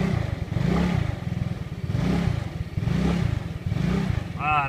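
Scooter engine revving on a road on Cat Ba island in Vietnam, a close rhythmic motor that swells and eases in repeated bursts, with a brief rising whine near the end.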